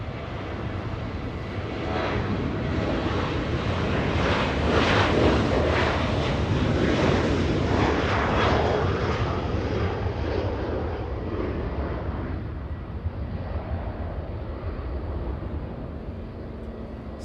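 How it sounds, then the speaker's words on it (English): A Southwest Airlines jet, flight 2821, departs Los Angeles International Airport for Austin, Texas, its engines building to a loud, broad roar that swells and then slowly fades into distant rumble, with wind buffeting the microphone and no voices. "Southwest Airlines getting a move on, flying to Austin, Texas, Southwest 2821"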